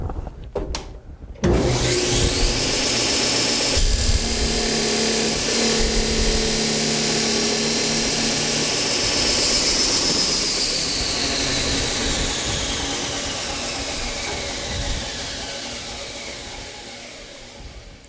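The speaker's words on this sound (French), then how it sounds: "On a ici notre sablage." A power sanding machine on a workshop tool setup runs at a right angle, giving a loud, steady, continuous whine and roar after a short start, holding for the whole stretch with no talking.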